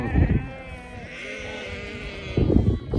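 Sheep bleat loudly nearby in one long drawn-out call, with rustling and thumping movement around it.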